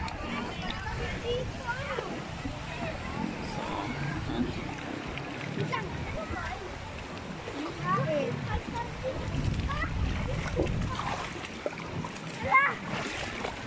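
Cold running water at a waterfall makes a steady broadband rush with splashy bursts that last the whole time, while people talk over it.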